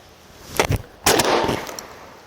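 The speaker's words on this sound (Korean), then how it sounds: "자, 우선 버드샷이니까 그 오른쪽 위쪽을 한번 쏴 보겠습니다." Two shotgun blasts firing birdshot at a paper target on a shooting range, the first a quick sharp report with a short echo, the second louder and followed by a longer decaying boom, with no talking.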